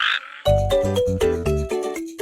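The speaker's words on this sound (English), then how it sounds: "You are a funny, funny, funny, funny frog." A cartoon frog croaks in a children's nursery rhyme, a rising opening call followed by a rhythmic run of deep, bouncy croaks, each with a musical pitch, loud and alone.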